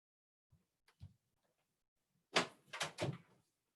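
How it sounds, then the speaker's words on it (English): A home office door pulled shut, giving a few faint knocks and taps and then a louder cluster of closing thuds and rattles near the end, close by, with no talking. "I'm going to close my door"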